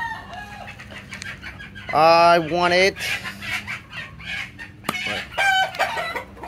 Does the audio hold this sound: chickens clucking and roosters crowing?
yes